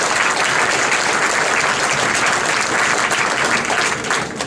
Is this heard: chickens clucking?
no